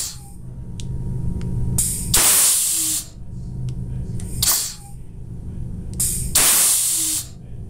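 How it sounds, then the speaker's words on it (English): A TopWorx Valvetop valve controller on a Foundation Fieldbus system is reversed from its button board, giving three loud, sharp pneumatic hissing bursts of air, each lasting about a second, separated by quieter background hum. "you can reverse the valve with the button board"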